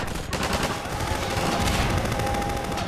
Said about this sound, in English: Shoot the Gordon!